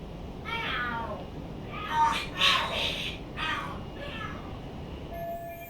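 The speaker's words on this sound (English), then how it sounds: "Are there cats fighting?" Cats fighting and screaming in the video game Lost Judgment: several drawn-out yowling cries rise and fall over a steady background hum, with a couple of louder peaks near the middle.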